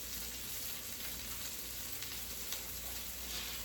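Cooked bacon and minced garlic dropped into a hot pot for a French beef roast, giving a constant hissing sizzle at moderate-low level, unbroken and without talk.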